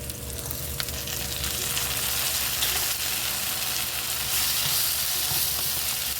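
Dried fish frying with chili paste in a pan for a sweet spicy fish cake, a dense, continuous close sizzle and crackle holding steady throughout, with no talking heard.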